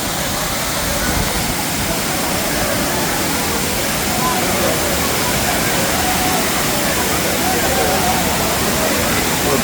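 Thirparappu Falls pours in a loud, steady roar of rushing water that stays constant throughout, with a voice speaking over it.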